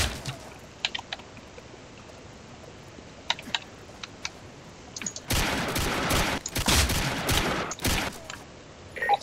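Minigun fire in a Minecraft war game, a loud sustained burst of rapid shots lasting several seconds after a quieter stretch of scattered clicks and taps.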